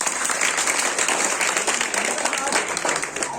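Loud, dense applause fills a school event hall as a crowd welcomes a student, with voices murmuring underneath the continuous clapping.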